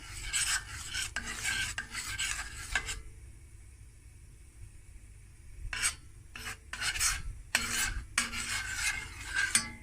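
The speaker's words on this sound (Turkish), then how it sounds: "Şöyle salçamı iyice çözeyim" Spoon scraping and rasping against a pot while homemade tomato paste is worked loose, in bursts of rhythmic stirring strokes with a quiet pause in the middle, close and fairly soft.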